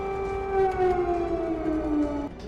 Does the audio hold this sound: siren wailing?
yes